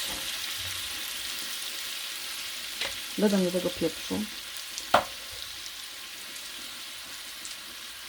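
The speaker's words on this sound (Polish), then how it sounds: "Tak poczekam chwileczkę, aż to przestanie skwierczeć." Garlic sizzling in plenty of olive oil in a pan, a constant soft crackle running beneath a brief spoken remark and a few stirring knocks.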